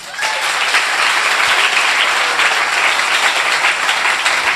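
A congregation claps steadily at a Hindi Christian worship gathering, dense continuous applause from a crowd that stays loud and even throughout.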